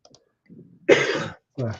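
A single loud, harsh cough close by, preceded by faint murmuring, with a short voiced sound following after a brief pause.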